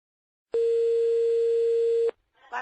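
Telephone line tone during a prank call, a single steady electronic beep held for about a second and a half, loud and close, then a short burst of faint line noise afterward.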